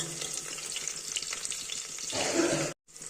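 Chopped onion and green chillies sizzle and fry steadily in a hot pan, a close, continuous crackle that swells louder near the end before cutting off briefly.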